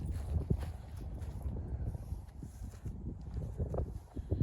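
Mares walking slowly at a calm pace on a farm, hooves clip-clopping in an irregular steady rhythm, fairly close, with a low rumbling background and no speech.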